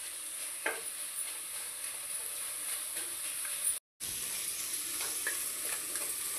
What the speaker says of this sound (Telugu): ఇలా బాగా వేగిపోవాలండి. బాగా వేగి ఆయిల్ తేలాలి.